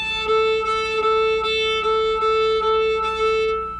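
Fiddle bowed with light weight and fast speed, a steady sustained tone with a faint wispy, skating quality and slight repeated pulses as the bow changes direction, close and even, no voice.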